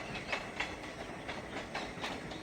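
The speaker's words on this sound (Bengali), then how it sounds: "ট্রেনের গতি কমে গেল কেন কি জানো?" A passenger train rolls along the rails as it slows, its wheels giving a faint, steady clickety-clack with soft periodic knocks heard from inside the carriage.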